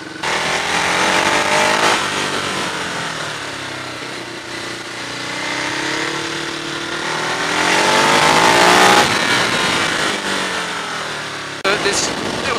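A 2015 Ducati Hyperstrada motorcycle cruises on the road, its engine droning loudly and steadily with wind rush and gentle pitch rises and falls, while a rider talks over it.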